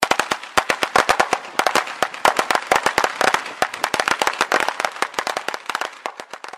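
Firecrackers pop in a dense, rapid string of loud sharp cracks, irregular bursts continuing throughout with no speech.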